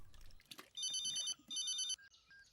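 Telephone ringing in two bright electronic bursts with a short gap, close and clear after a few soft handling sounds.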